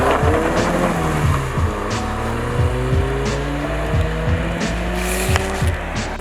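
A car engine revs hard and repeatedly in a loud rev battle, the pitch climbing and dropping in quick bursts with sharp, close, continuous roaring throughout.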